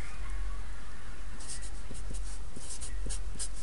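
Pen or marker scratches out a handwritten math equation on a board or paper, short close strokes and taps in quick succession over a quiet hiss.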